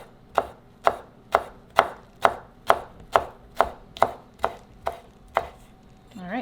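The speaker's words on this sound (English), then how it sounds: "We're just gonna roll them up just like this and then slice them." A knife slices rolled-up basil leaves on a board in a steady run of about a dozen sharp, close chops, evenly spaced. The last second is quiet apart from a brief faint sound.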